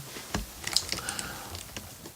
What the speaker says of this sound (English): You just can smash away at the keyboard and come up with really good grooves quickly.